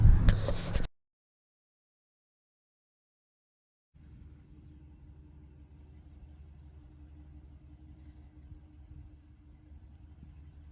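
A Jeep Cherokee drives away: a short loud burst opens, then after a few seconds of silence a faint, distant engine rumble lingers steadily in the background.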